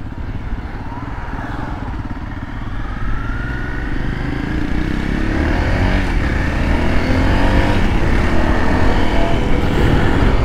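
A 2013 Honda CRF250L motorcycle with a belt transmission kit drones steadily and loudly while being ridden, its engine noise and wind rising slightly over the stretch without any talking.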